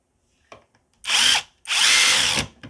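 A Banggood brushless impact driver drives a screw until its head snaps, giving a faint tap and then two loud, close bursts of whirring hammering, the second longer, with no talking.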